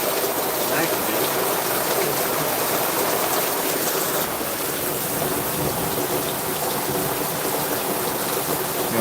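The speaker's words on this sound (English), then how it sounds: "So I also like to purge nitrogen." Nitrogen purge gas hisses steadily through the refrigerant lines during an R32 Amana S Series air conditioner installation, a dense, even rush that holds at the same level throughout.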